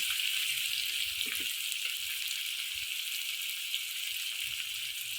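Sliced onions fry with a pinch of sugar in a pan for egg malai curry, giving a steady, close, even sizzle with a few faint knocks underneath.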